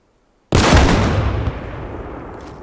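A rocket launcher fires in Arma Reforger with one sudden, loud blast that booms and rumbles, then trails off into a long fading tail, heard alone.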